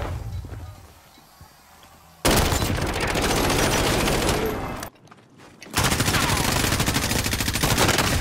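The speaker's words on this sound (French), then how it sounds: "Il me tire dessus" Loud bursts of sustained automatic gunfire in a video game, broken by a brief quiet gap, with a quieter stretch of faint background at the start.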